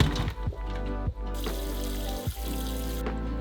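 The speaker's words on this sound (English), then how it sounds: "Drain the bones and rinse with cool water." Cool tap water runs steadily over pig and chicken bones in a kitchen sink as they are rinsed, a continuous splashing stream with brief interruptions and gurgles.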